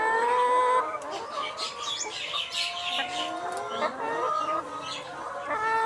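A flock of layer hens on a poultry farm clucks and calls nearby, with many overlapping, rising and falling cackles filling the space continuously.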